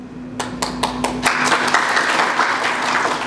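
Crowd applause at a political rally: a few loud, separate claps at the start, then a thick, sustained burst of clapping from a large audience that holds steady to the end, with no voices.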